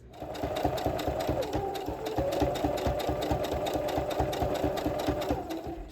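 A sewing machine stitches curtain fabric in a steady, rapid mechanical rhythm, running continuously and fairly loud without pause.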